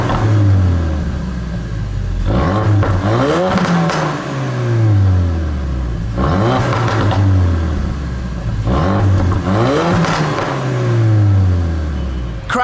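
A Ford Focus RS with the standard exhaust, in sport mode, revs loudly in three repeated rising-and-falling sweeps, each ending in a burst of crackles and pops, with no talking.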